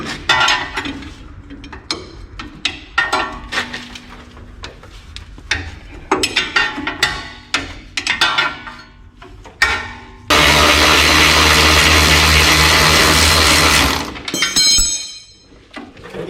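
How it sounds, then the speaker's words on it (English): Work on the 19mm lower strut bolt of a Toyota Hilux N70 front suspension, with close metallic clicks and clinks of a wrench and ratchet, then a loud, steady whirring burst of a power tool for several seconds before it stops. "So next thing to undo is this lower bolt that holds the strut in."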